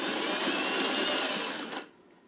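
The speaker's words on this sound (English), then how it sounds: "When I get to this corner, I'm going to come around and just sew about 1 inch." Sewing machine stitching through cut-up T-shirt scraps, a fast continuous whirring buzz held close and steady for under two seconds before stopping abruptly.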